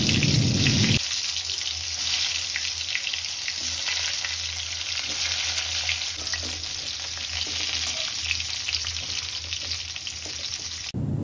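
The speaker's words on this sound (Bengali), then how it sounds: "আর মধ্যে তেল দিয়ে দিলাম পটল ভাজার মতন" Pointed gourd (potol) slices sizzle loudly in hot oil in a wok over a gas flame, a continuous dense crackle and hiss that begins abruptly after a brief opening noise and holds steady throughout.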